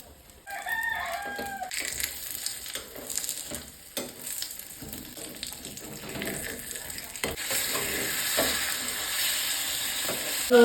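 An egg with tomato, onion, coriander and chilli powder fries on a slow gas flame, giving a steady sizzle with stirring scrapes and clatter, and a rooster crowing faintly early on.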